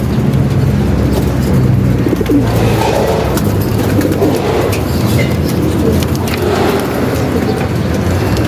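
Racing pigeons coo repeatedly in a busy, noisy setting, with traffic rumbling in the background and occasional faint voices.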